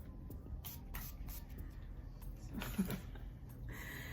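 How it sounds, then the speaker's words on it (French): Makeup setting spray misted over a finished face gives several short soft hissing spritzes close by, in a quiet room. "Et je mets un spray par-dessus, le spray du fixateur."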